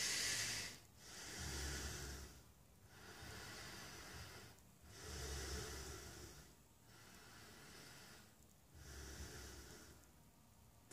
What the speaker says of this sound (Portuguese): Eu só vou respirar pelo tórax